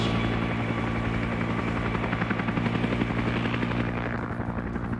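A helicopter's rotor thumps steadily and loudly overhead in a Vietnam war video game, a continuous chopping drone with engine whine, tapering slightly near the end.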